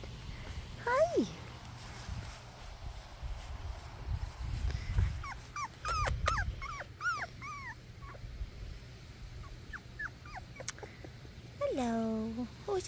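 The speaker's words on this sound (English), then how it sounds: "Oh, it's a pretty puppy." A 26-day-old puppy whimpers and yips in short high rising cries, scattered through the clip and a longer whine near the end, while someone talks softly and coos nearby.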